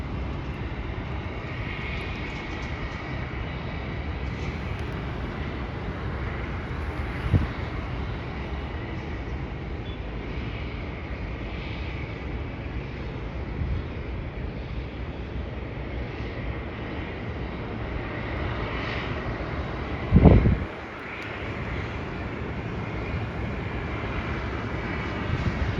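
A China Southern passenger jet flying past while being watched by a plane spotter, a steady broad engine roar lasting throughout, moderately distant, with a brief thump near the end and no talk.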